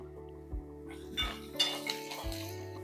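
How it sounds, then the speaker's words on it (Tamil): Finely chopped small onions tipped into a hot tempering in a pan for Chettinad kara chutney, with a few clanks of the utensil against the pan followed by a rising hiss of frying, near and without talk. "கட் பண்ண வெங்காயத்தையும் இதில் சேர்த்துக்கலாம்."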